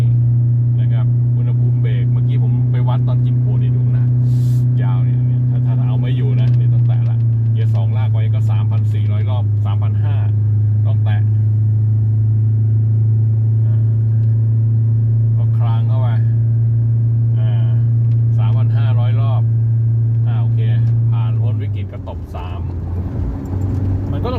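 A car descends a long mountain road with a steady, loud engine drone that shifts pitch as the brakes are tapped and gears are changed near the end, while someone talks over the hum.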